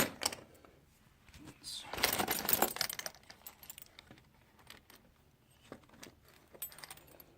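Metal keys from an old collection of locks and keys jangle and clink as they are sorted by hand, with a louder burst of rattling in the middle and lighter scattered clicks after.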